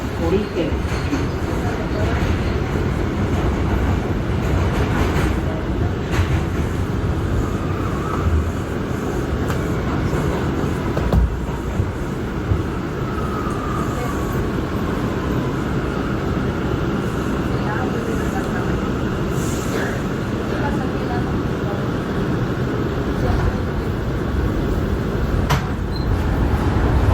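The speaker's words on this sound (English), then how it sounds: "Brooklyn-bound C local train" A Brooklyn-bound R179 C local subway train runs between 145th Street and 135th Street, giving a steady, loud rolling rumble with rattles and a few sharp clanks throughout.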